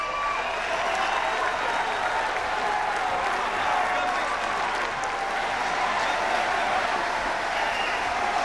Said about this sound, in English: The crowd on their feet here in Huddersfield.